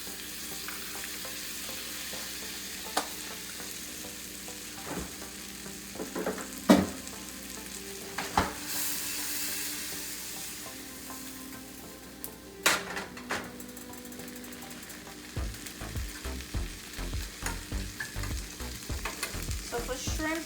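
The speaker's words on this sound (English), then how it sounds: "I'm gonna start cooking my shrimp right now. So I'm gonna add some butter to the pot" Shrimp frying in butter in a pot, a soft steady sizzle with occasional stirring scrapes and knocks of a utensil against the pot, close and fairly quiet, with no talking.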